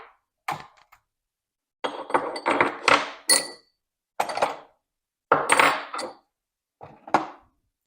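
Bigger metal Allen wrenches for a new lathe clink and clatter as they are handled, in several short, sharp bursts of jangling metal close by, with quiet gaps between.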